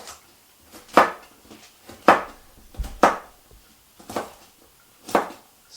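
A knife chops food on a cutting board in a home kitchen while making Guinness venison stew, five or six sharp, separate knocks at roughly one-second intervals, close and clear against a quiet background.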